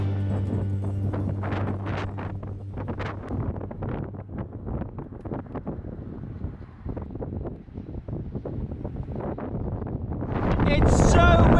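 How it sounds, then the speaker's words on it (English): Strong gusty wind on Ireland's stormy Atlantic coast roars and buffets the microphone in a dense, fluctuating rush, with a cyclist's voice calling out over it and a louder blast near the end. "It's so windy!"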